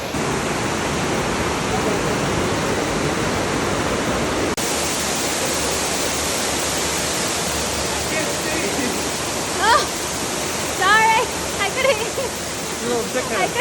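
Steady roaring rush of a waterfall in Hualien, Taiwan, pouring down, loud and continuous, with a few brief voices rising above it near the end.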